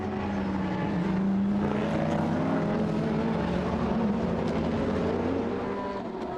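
Race cars at the Jyllandsringen circuit during a Super Sport Cup final, a continuous loud engine roar with shifting pitch as cars pass, no talk over it.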